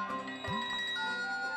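A mobile phone ringtone playing indoors during a TV serial scene, a melodic electronic tune with repeating tones, moderately loud with no talk over it.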